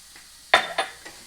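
Flour stirred into a pot for white chicken chili, three quick scraping strokes of a utensil against the pot with a faint sizzle underneath, close and fairly loud.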